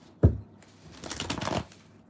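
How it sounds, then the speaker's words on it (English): Tarot cards being shuffled by hand at close range: one sharp tap, then about a second of dense riffling and sliding card noise that fades out. "Let's shuffle the cards well, and I'll tell you."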